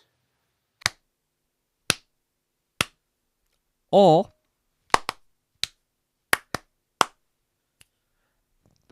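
Sharp, isolated hand claps made for syncing audio, spaced out one by one and sometimes in quick pairs against silence, with a brief spoken word partway through.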